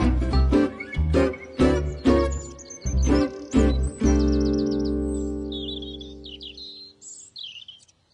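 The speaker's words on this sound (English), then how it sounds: "you can hear sometimes the whole tree is a twitter." Small birds twitter in a tree, chirping and tweeting in quick bursts in a spring garden, high above ringing piano-like chords that strike several times and then slowly fade out.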